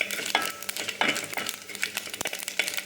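Tempering sizzles and crackles in a pan for drumstick leaf koottu, with bright frying spatter and a few sharp spoon scrapes, close and continuous.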